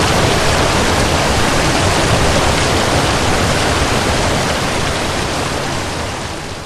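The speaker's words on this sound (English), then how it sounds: "Hear that deafening roar? That sounds like whitewater." A loud, steady roar of rushing water fills the whole clip without a break, easing slightly toward the end.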